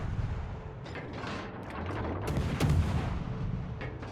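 Warship guns fire in a naval video game battle involving a Scharnhorst, with heavy booms and rumbling low-end blasts layered over continuous battle noise.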